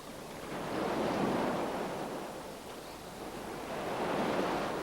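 Sea waves wash onto a shore in a broad, steady roar that swells and eases in slow surges, close and continuous with no voices.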